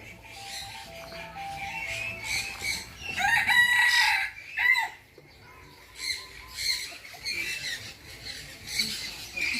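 Several roosters crow in turns at a bird garden café in Thailand, a prominent nearby call in the middle, with hens clucking and other birds chattering around them.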